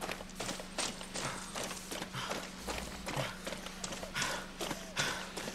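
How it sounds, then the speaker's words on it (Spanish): Steady clip-clop of horse hooves at a trotting pace, fairly close, with a low constant hum underneath; game-like ambience from Far Cry 6 on PS5, no talking. "Me ha dejado tirado el caballo"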